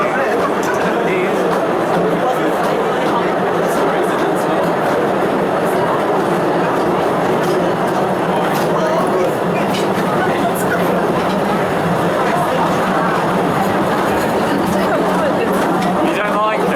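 Small train carrying riders into the Postojna Caves rumbles and rattles steadily along the track with clicking wheels and squeaks, close and continuous, with people chatting over it.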